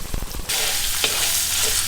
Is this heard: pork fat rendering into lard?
yes